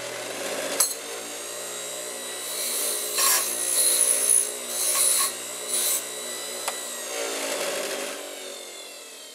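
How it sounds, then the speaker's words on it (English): A bristle brush on the side of a bench grinder dulls the sharp ends of scale mail rings, giving faint whirring with intermittent brighter scraping and rasping bursts as pieces are pressed against it. "we're going to use a bench grinder, the bristle brush on the side, to dull the ends"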